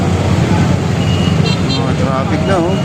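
Busy street traffic near the Pasig River esplanade in Divisoria rumbles steadily with engines and a brief horn toot, while a person talks close by over the noise.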